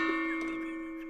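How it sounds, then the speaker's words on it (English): A gong sound effect rings out with a bright metallic strike and a sustained, slowly fading tone. "If you retract your comment, you get a gong, guys."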